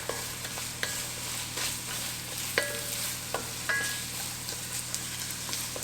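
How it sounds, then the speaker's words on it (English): Celery and onion with a little salt frying in a pan for cornbread sausage dressing, a steady soft sizzle broken by several sharp scraping stirs and utensil clicks against the pan. "Adding your celery and onion. We're also adding in our ½ teaspoon of salt, and we're gonna give this a good stir."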